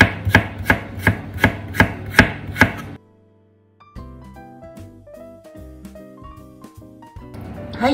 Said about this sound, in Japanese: にんにくはね、みじん切りにしました